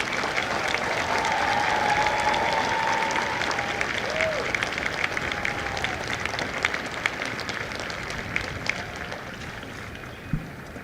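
Steady, dense applause from a large audience at a Marine recruit graduation ceremony at MCRD San Diego, sustained at an even level throughout with faint voices mixed in.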